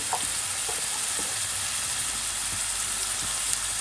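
Sliced onions and green chillies fry in hot oil in a pan, giving a loud, steady, unbroken sizzle with faint clinks of stirring.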